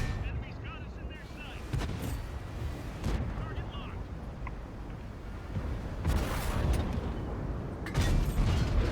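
Tank cannon fire in a tank combat video game: heavy booming shots land around the middle and near the end, with mechanical creaks and rumbling battle noise underneath and someone talking over much of it.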